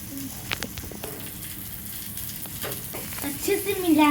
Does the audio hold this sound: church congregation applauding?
no